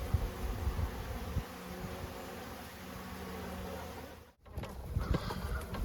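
Honey bees buzzing around big, very active clusters outside a hive, a dense, steady drone close by with no talk over it.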